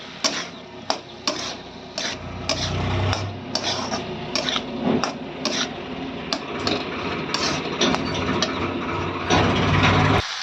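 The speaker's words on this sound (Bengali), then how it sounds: "এবার দিয়ে দেবো কেটে রাখা টমেটো। ভালো করে আবারও নেড়ে দেবো।" Cabbage and tomato stirred in a pan, repeated sharp metal scrapes and taps of a spatula in a fairly regular rhythm over a soft frying hiss, loud and close, no talking.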